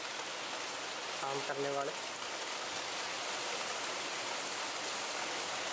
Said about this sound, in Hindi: बारिश देखो कितने तेज आ गई है